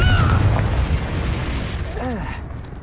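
The Confringo fire spell in Hogwarts Legacy explodes in a heavy, rumbling boom amid battle noise, with short chirping magical effects trailing through the loud blast.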